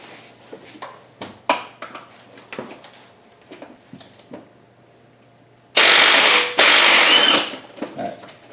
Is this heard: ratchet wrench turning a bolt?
yes